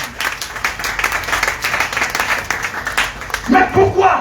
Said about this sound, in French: Acclamez cette fois pour le célébrer.